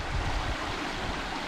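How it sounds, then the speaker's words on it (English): A clear little river flows in the Balkan mountains near a waterfall, a steady, even rush of water heard close up with no other sounds. "It's super clear little river,"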